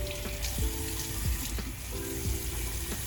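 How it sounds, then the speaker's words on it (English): Water runs steadily from a bathroom sink faucet while a face is rinsed, a quiet continuous splash broken by intermittent hand-splash thumps and dripping. "So now I'm just going to rinse it off."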